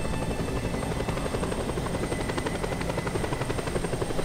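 Helicopter in the open-world action game Just Cause 2, its rotor chop steady and loud throughout with a constant engine whine, heard alone without talk.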